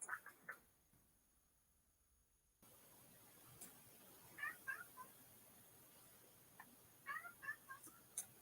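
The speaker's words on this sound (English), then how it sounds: "My cat's come to bitch at me." A house cat meows several times during a live eBay listing session at home, short nasal calls in two clusters, fairly faint and mid-distance, over quiet room noise with no talk.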